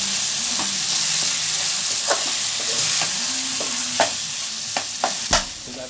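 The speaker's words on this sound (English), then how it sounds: "So I've added my chili garlic sauce now to my meat." Ground beef sizzles steadily in a hot pan with chili garlic sauce as it is stirred, a continuous frying hiss broken by several sharp scraping clicks of the utensil near the end.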